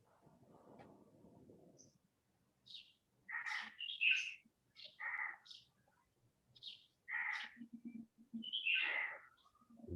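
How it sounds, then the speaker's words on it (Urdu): Birds chirp near a participant's microphone during an online Quran recitation session, a series of clear, close calls in short bursts, preceded by a low murmur at the start. "آوازیں تو بڑی پرندوں کی آ رہی ہیں آپ کی طرف سے"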